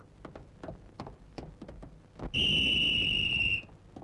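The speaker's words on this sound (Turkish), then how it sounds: "Düdük çalıyor mu diye baktım da" A few soft ticks, then one shrill, steady whistle blast held for just over a second, loud and close.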